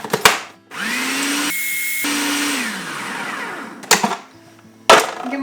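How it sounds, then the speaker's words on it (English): A blender whirs up to speed mixing gluten-free bread ingredients, running loud and steady for a few seconds with a shifting motor pitch, then stopping, followed by a couple of sharp knocks. "We're going to blend that all together."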